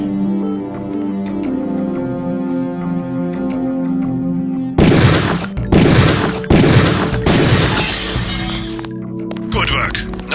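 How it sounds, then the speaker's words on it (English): Several loud gunshots crack out in rapid succession at a rifle range in the Deus Ex training area, following a stretch of steady game music and ending with an electronic warble. "Release the second target and aim before shooting this time."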